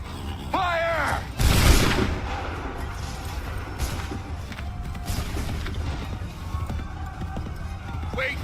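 Musket volley gunfire in Assassin's Creed III, a loud crackling burst of shots early on, followed by scattered booms and battle noise, with shouted voices cutting in near the start and the end.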